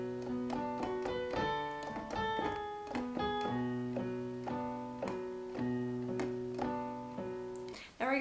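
Piano with both hands playing together, a steady flow of bass and treble notes in an even rhythm, close and clear with no talk over it.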